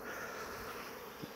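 Honeybees buzz around an opened hive during a beekeeping inspection, a steady, faint swarm hum with no voices over it.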